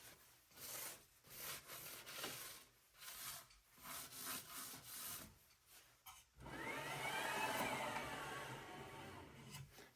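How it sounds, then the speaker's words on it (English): Gantry of an xTool P3 laser cutter slid by hand along its rail, a faint scraping rub in short strokes with pauses, then a longer continuous slide at the end. "Now I'm going to move the gantry all the way back"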